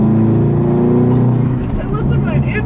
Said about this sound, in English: Oh man, that exhaust sounds awesome, but it's actually not quite as loud as I was expecting